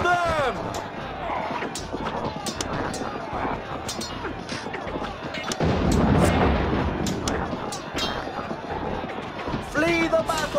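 Artillery fire in the Dark Omen strategy game, with dense repeated booming and crackling shots over a busy battle mix, while game voices shout throughout.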